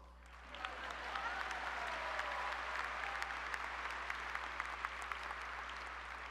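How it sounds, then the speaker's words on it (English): A graduation ceremony audience at Sammamish High School applauds, steady crowd clapping that swells after a moment and carries on at a distance over a low steady hum. "Round of applause."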